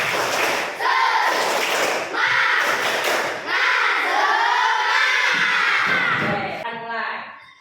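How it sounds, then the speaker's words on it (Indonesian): A class of fifth-grade schoolchildren performs a rhythmic spirit clap chant, voices shouting in unison over bursts of clapping in several phrases before the group falls quiet at the end. "Tepuk semangat."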